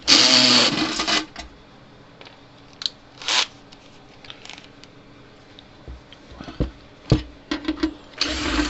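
Metal-on-metal clicks, scrapes and squeaks come from a screwdriver removing screws from the metal case of a 1960s Montgomery Ward solid-state electric fence charger. Short, irregular bursts sit close and fairly loud against a quiet background, with no talking.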